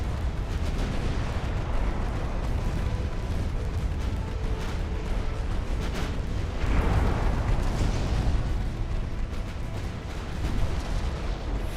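Torpedo hits and shell explosions strike warships in the naval battle game Ultimate Admiral Dreadnoughts: a dense, continuous rumble of blasts and booms, with a heavier burst near the middle, loud throughout.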